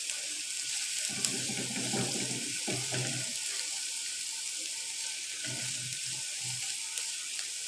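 Ginger garlic paste frying in a pan, a soft continuous hiss and sizzle with faint stirring scrapes, quiet and close, no talking.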